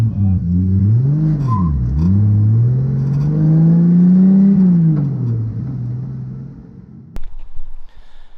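A 2JZ-swapped BMW E36 engine revs loudly and close, its deep droning note climbing, dipping and rising again for several seconds before cutting off, followed by a few brief clunks and rattles.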